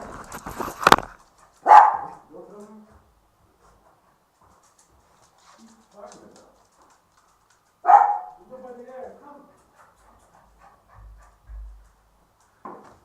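Scattered sharp dog barks and yips, near and fairly loud, separated by quiet stretches with faint rustling between them.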